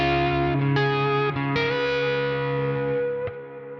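Distorted electric guitar run through effects, a few sustained chords struck in turn, each ringing out with a slow decay, loud and close with no talking.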